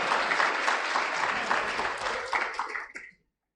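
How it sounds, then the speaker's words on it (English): Audience applause for the president at an NGO symposium, a dense steady clapping that thins into a few scattered claps and stops abruptly near the end. "Can we clap for the president one more time?"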